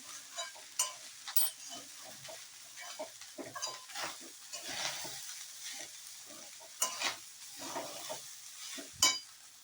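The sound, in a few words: veg fried rice stir-frying on high flame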